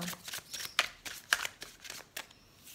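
A deck of oracle cards being shuffled by hand, with quick papery riffles and crisp snaps repeating in short irregular bursts, close and fairly quiet.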